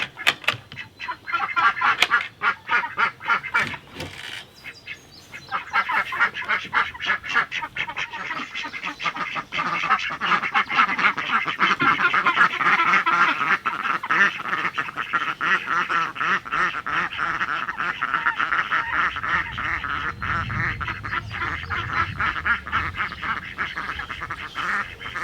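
Ducks quacking repeatedly as their coop door opens in the morning, a busy, continuous chorus of overlapping calls that swells after a brief lull and keeps going at fairly close range.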